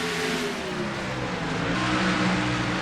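Race cars circle a simulated North Wilkesboro oval in a stock-car racing video game, engines droning and revving together in a steady, loud pack roar with no talk over it.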